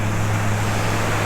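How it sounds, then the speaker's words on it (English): Surf at Waimea Beach on Oahu's North Shore, heard as a steady, loud broadband wash of waves with wind buffeting the microphone and a low rumble throughout, no voices. "the waves are calm, but they are still very, very powerful here"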